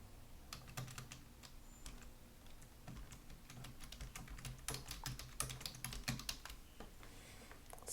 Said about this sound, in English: highlight it and start typing